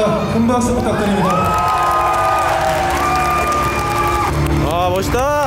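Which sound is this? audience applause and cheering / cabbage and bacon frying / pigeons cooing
audience applause and cheering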